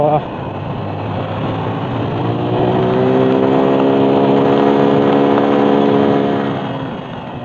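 A vehicle engine labours uphill in second gear on a mountain road near Sajek, giving a steady, loud drone that rises in pitch and strains as it climbs, running continuously.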